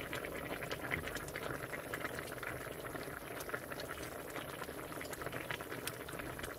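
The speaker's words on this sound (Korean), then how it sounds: "뚜껑을 닫고 잠시 끓일게요" A covered pot of Korean soft tofu stew (sundubu jjigae) bubbles at a steady boil, giving a constant close, low-level simmering burble with small pops and no talking.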